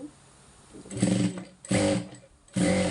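A sewing machine stitches a small piece of fabric, run by a foot pedal. Three bursts of close mechanical whirring come in quick succession, each stopping sharply, with no talking.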